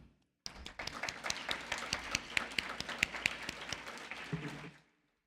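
Modest applause from a school community audience at an education talk in Mexico, a few seconds of scattered clapping with distinct individual claps, fairly quiet and ending abruptly.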